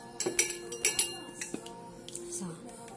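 Sardines tipped from an opened tin into a bowl, with a series of light metallic clinks and taps of can against dish, close and moderately loud, spread unevenly across a few seconds.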